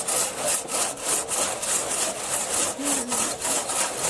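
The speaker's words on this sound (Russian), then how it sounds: "Видал, как пилит хорошо?" Hand saw cutting through wood with a steady back-and-forth rhythm of rasping strokes, close and loud, no talking over it.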